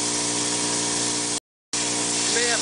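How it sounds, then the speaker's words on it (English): A spray gun applies hot pipe coating with a steady, loud, continuous hiss of air and material. The spray breaks off briefly midway, then resumes just as strongly. "adjust your air accordingly so that you get a nice spray coming out"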